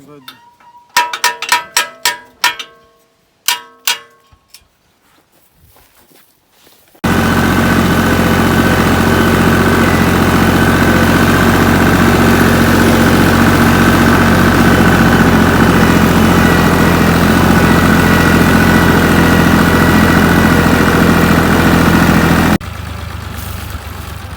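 A tractor engine runs steadily and loud while hilling potatoes planted in wheat stubble, a continuous low droning hum that starts abruptly after a few seconds of scattered knocks and clatter, then drops off near the end.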